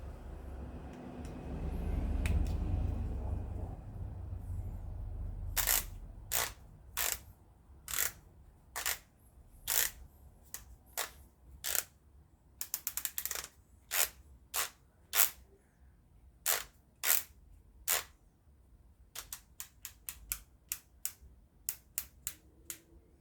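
Torque wrench set to 14 foot-pounds clicks on a Honda Civic cylinder head during replacement: after low rumbling handling noise, a long series of crisp, evenly spaced metallic clicks, close and distinct, with brief clustered pairs.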